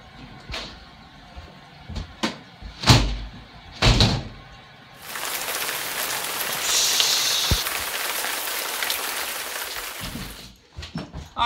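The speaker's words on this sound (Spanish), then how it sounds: "Creo que usaré la ducha ahora." A shower starts running in a home bathroom, a steady broadband hiss of spraying water lasting several seconds after a few sharp knocks and thumps, then cutting off.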